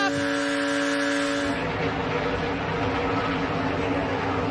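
ARCA Menards Series race cars roar off turn four at Daytona during the Lucas Oil 200, a loud continuous engine drone building as the pack passes, under an excited commentator's voice.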